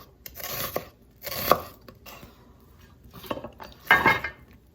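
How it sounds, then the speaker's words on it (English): A knife thinly slices red onion on a board in several separate bursts of quick crisp cuts with short pauses between them, close and clear, with no talking. "So just like thinly sliced like red onion."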